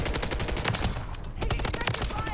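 DG-58 LSW light machine gun firing in Call of Duty MW3, with rapid sustained automatic bursts cracking close and loud, dense shots packed together across the clip with only a brief lull.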